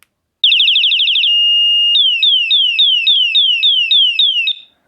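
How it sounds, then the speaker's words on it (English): Electric horn of a VLOXO bike light set blaring very loud and close: a rapid warbling siren, a steady shrill tone, then a repeating falling whoop pattern before cutting off. "And then this is a horn."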